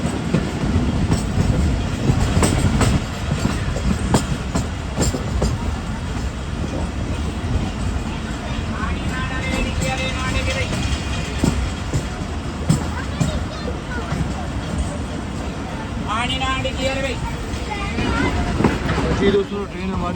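The Islamabad Express rumbles along the track as it pulls onto a loop line at Chak Pirana station, a continuous clattering roll heard from inside the coach, with passengers' voices and the occasional squeal mixed in.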